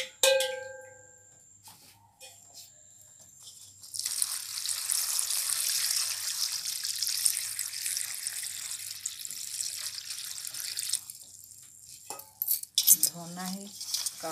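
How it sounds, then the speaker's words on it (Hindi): Water poured into a pot of soaking food while cooking a traditional tribal dish in a home kitchen, a steady splashing flow after a few clinks, moderately close with faint clatter near the end. "पानी डाल देती हूँ मैं, थोड़ा देर भीगते रहेगा।"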